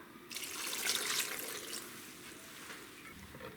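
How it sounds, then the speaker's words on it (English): One cup of water is poured into a blender for a red chicken pozole chile sauce, a soft close splashing rush that swells and then tapers into a gentle trickle. "I'm gonna put the water too, 1 cup."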